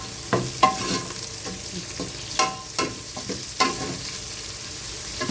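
Beef offal and red onions fry in a pan for papaitan, a steady sizzle broken by repeated scraping stirs of a spoon, close and clear with no talking.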